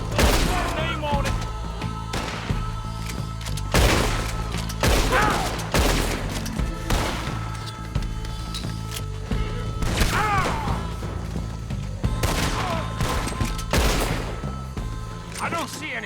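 A Red Dead Redemption 2 shootout, with sharp gunshots cracking at irregular intervals over a steady game soundscape, close and punchy.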